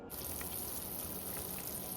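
Water boiling in a cooking pot while pea pulao is being prepared, giving a steady, close hiss of bubbling that continues without a break and with no one speaking.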